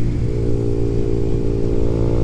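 A Yamaha MT-07 motorcycle engine idling close by, a steady, loud, low-pitched rumble with an even throb and no voices over it.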